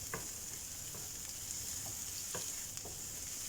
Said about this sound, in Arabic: بس يسخن الزيت شوي رح نزل البصل المفروم ناعم